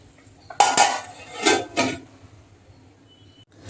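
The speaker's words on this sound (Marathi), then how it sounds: "तर आपण झाकण ठेवू शकतो." A lid clanks onto a pot of boiling masala rice, with two or three close metallic knocks and a brief rattle, then quiet simmering.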